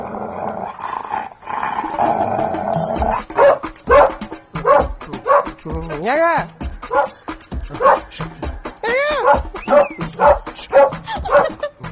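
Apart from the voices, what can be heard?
dog growling and whimpering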